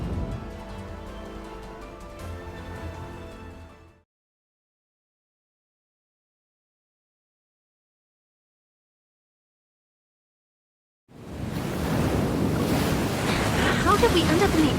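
Ocean waves and wind roar across a game scene, loud and rushing at the start, then a long silence, then a return of heavy surf and wind noise.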